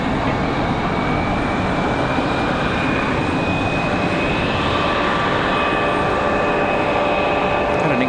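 Southwest Boeing 737 MAX 8 departing Raleigh-Durham for Las Vegas on a windy day, a loud, steady jet engine roar with a gliding whine tone, alone and close.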